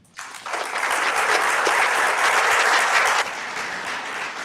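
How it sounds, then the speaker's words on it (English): An audience at a culinary school graduation, where patisserie diploma students are being honoured, claps in loud, sustained applause that swells quickly, holds steady and then eases off. "give them a big applause to each and every one of them"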